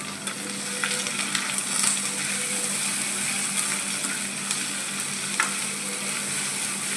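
Chopped capsicum frying in oil with onions and curry leaves for a capsicum egg curry, a steady close sizzle with occasional light clicks and scrapes of stirring, no voices present.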